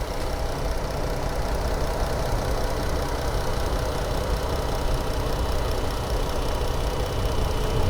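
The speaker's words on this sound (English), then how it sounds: "There's your engine." Car engine idling under an open hood, a steady loud mechanical rumble with a fast even ticking, continuous and close, with no talk.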